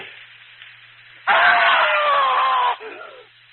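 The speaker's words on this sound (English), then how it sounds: "I screamed so loudly there was blood in my throat." In a 1938 horror radio drama, a man lets out one loud, sustained scream lasting over a second, cutting sharply above a quiet, hissy old-broadcast background before fading back to low noise.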